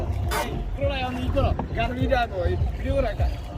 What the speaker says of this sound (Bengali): ও এই যে আমাদের মাঝি একটা চালাচ্ছে